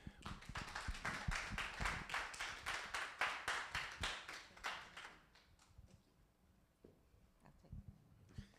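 A church audience claps together in a dense burst of applause that fades out after about five seconds. A few scattered claps and a faint voice follow in the quieter tail.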